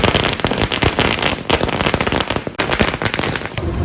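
Firecrackers set off by DMK party members celebrating a town panchayat upgrade in Sankagiri burst in a dense, rapid, continuous barrage of loud, close pops and cracks throughout.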